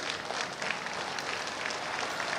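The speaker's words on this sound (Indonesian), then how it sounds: "Kehadirannya disambut sorak dan tepuk tangan ribuan kader." Thousands of party cadres at a PDIP congress cheer and clap together, a steady, dense wash of applause and crowd noise that fills the hall without pause, with no talking over it.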